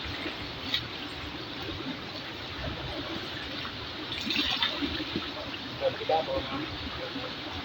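Water splashes and trickles in a river while a horse is bathed, with irregular splashes and a steady watery wash under people talking nearby.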